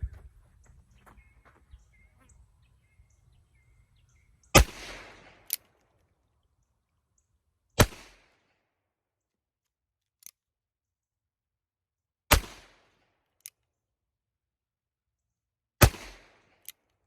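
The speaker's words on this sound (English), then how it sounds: "I'm gonna go ahead and shoot a few." An Uberti Cimarron 1851 Colt Conversion revolver fires four sharp, loud shots spaced a few seconds apart, each ringing out briefly, with a couple of faint clicks between them outdoors.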